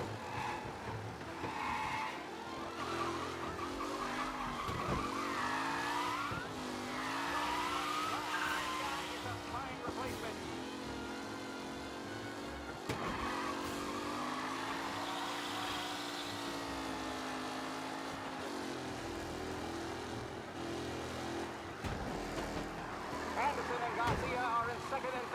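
Race cars in Mafia: Definitive Edition roar around a track on the final lap, engines rising and falling in pitch as they accelerate and shift, with tire squeals and skids layered under a commentator's voice.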